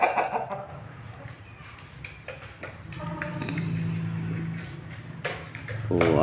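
Laying hens in a coop cluck softly and intermittently at middle distance, mixed with scattered taps and rustles, without talk in between.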